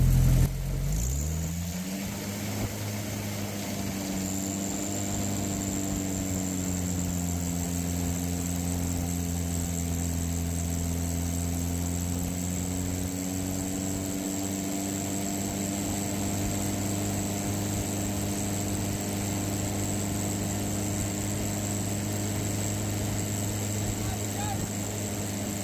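Upgraded fracking pump motor running steadily at wide-open throttle under high pressure, a loud continuous drone with strong low harmonics and a faint high whine, spinning up at the start and holding level throughout.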